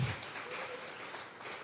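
A church congregation at a Sunday morning service gives a round of applause, a soft, distant wash of many hands clapping steadily throughout, with no voices on top.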